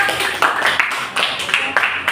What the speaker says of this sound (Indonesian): silakan tepuk tangan untuk kelompok berapa?